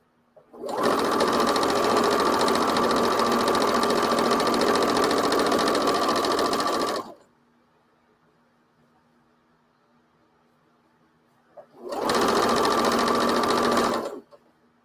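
A sewing machine stitches fabric in a long, loud, steady run of about six seconds, stops into near silence with a faint hum, then starts again for a shorter burst.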